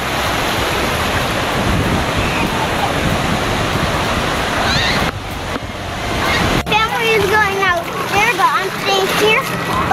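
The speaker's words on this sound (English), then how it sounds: "we're having a great time splashing in the waves" Rushing ocean surf and splashing water roar loudly on a beach at Wildwood, New Jersey, then ease as excited children's voices and chatter take over near the microphone.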